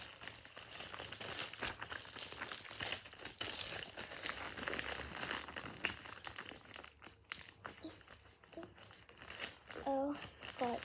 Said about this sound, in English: So now we're gonna open the package I got.